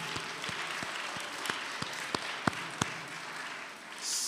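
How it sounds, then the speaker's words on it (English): A chapel audience applauds students after Middle School Innovation Inspiration Week, a steady wash of clapping with a few sharper individual claps standing out, tapering off near the end. "Let's give those guys a round of applause"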